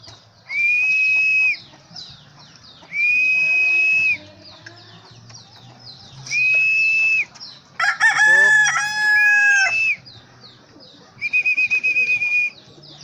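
A rooster crows in several sustained calls that recur in bursts, with a busier burst of overlapping calls in the middle, fairly close and loud.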